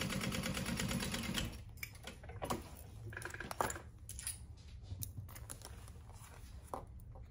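A sewing machine running basting stitches to close a crossbody bag: a dense burst of rapid stitching at first, then scattered clicks, taps and handling noises.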